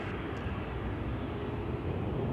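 A Bulgaria Air airliner taxiing at Schiphol Airport gives off a faint, steady, distant engine rumble and broadband roar that stays level throughout, with no voices.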